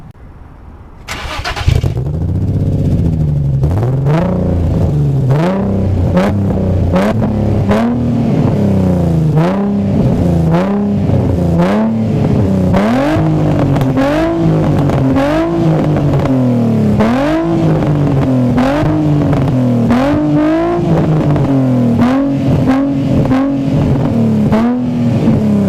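Nissan 350Z engine after a Seafoam treatment starts up, then is revved repeatedly in rising and falling swells, loud and close, holding a steady throaty idle between blips with no talking.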